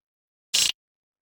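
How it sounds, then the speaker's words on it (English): A single short, bright burst of hi-hat hits rolled together into one quick swish, isolated in silence. "So it's a hi-hat roll sample"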